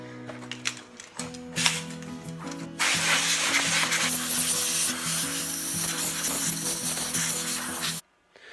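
Compressed air blasts debris off a McCulloch 610 chainsaw in a workshop: a loud continuous hissing rush lasting several seconds, preceded by some handling clatter, then stopping sharply.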